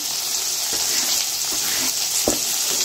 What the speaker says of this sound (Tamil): இப்போ பொடியாக கட் பண்ணி வச்சுருக்கிற வெங்காயம் சேர்த்துக்கிறேன்